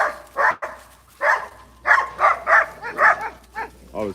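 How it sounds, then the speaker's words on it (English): Dogs bark in repeated loud bursts at close range, an agitated volley of about ten barks set off by a passerby walking another dog. "I think somebody's provoking the dogs."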